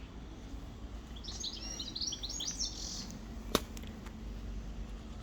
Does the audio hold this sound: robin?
yes